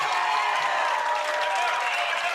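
A stadium crowd cheers and applauds at an MLP pickleball playoff match in San Diego, a dense, steady roar that holds loud and unbroken throughout.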